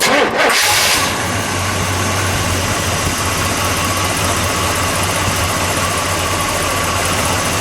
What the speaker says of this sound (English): Let's start this one up, shall we? We're gonna let it idle, and then we'll give it a rev.